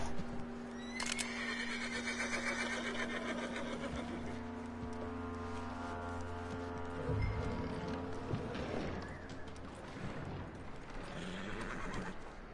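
A horse in the Western video game Red Dead Redemption 2 whinnies loudly near the start, followed by hoof clip-clops and snorting over a quiet in-game ambience.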